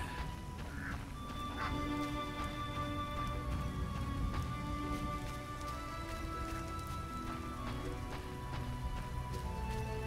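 Steady rain pours down outdoors, a dense continuous patter of drops striking surfaces, with occasional sharper impacts and faint tonal sounds in the background throughout.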